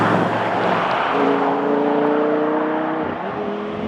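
An Audi R8 V10 engine revs loud and close, its harmonic tones rising and holding steady before easing off, with no talking over it.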